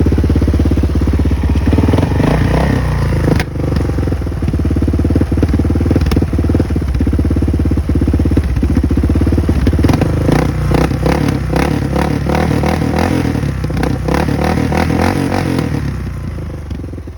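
A 650cc Kawasaki touring motorcycle engine runs loudly and close up, its revs rising and falling unevenly and not revving out fully, with rattling mechanical clatter throughout.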